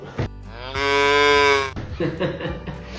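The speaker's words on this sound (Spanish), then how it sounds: "Mu, como hacen las vacas." A cow gives one long, loud, close moo lasting about a second, preceded and followed by brief rustling and movement sounds.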